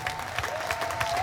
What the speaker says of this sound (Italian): Io ho bisogno di sentire un bel applauso prima di cantare